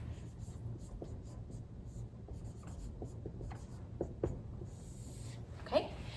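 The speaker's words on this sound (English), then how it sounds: "so we're gonna write that down." Pen or pencil writing on paper while working a drops-per-minute dimensional analysis problem, a steady faint scratching with a few sharper taps and strokes, close up and quiet with no talking.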